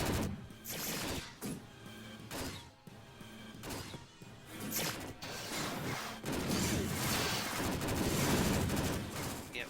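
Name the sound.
flash missiles being fired in the video game Descent 2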